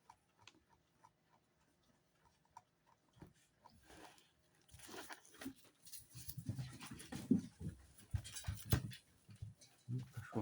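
A female dog, likely panting and snuffling near the microphone, with faint scattered ticks early on and busier, louder bursts of breathing and movement in the second half.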